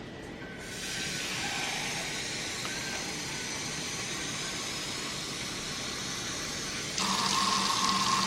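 Water runs steadily into an Instant Pot while cooking loaded baked potato soup, a continuous hissing pour that starts after a brief pause and grows brighter and louder near the end.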